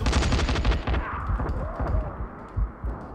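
Rapid bursts of gunfire from the player's gun in the zombie game Dying Light, loud and close, then scattered single shots and thuds.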